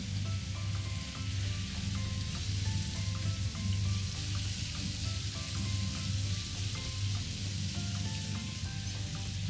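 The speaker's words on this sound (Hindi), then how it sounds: "इसको मीडियम फ्लेम पे तकरीबन 10 मिनट तक मैं कुक करूँगी" Marinated chicken cooking in oil in a pan over a medium flame, a faint, even, steady sizzle like light rain, with no voices and no change throughout.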